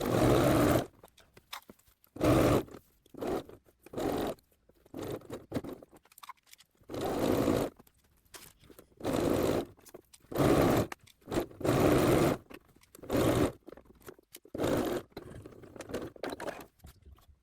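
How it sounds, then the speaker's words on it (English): A sewing machine stitches the side seam of a blouse from sleeve edge to hem, running in repeated short bursts of whirring with brief pauses as the fabric is guided. "Sew the entire side seam from the sleeve edge to the bottom edge of the blouse."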